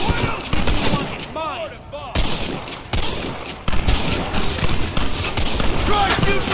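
Gunfire in the western video game Red Dead Redemption: dense, rapid volleys of rifle and pistol shots crackle over several seconds, with brief pauses and quieter stretches between bursts.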